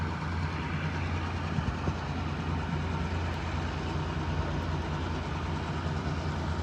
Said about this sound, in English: This is a garbage train, work train.